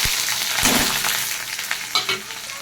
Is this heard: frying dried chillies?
yes